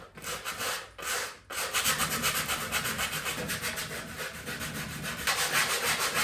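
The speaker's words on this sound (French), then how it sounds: "Je vais chercher de quoi poncer maintenant." Coarse-grit sandpaper rubs back and forth over a surface in quick, regular strokes, close and steady after a couple of brief opening passes.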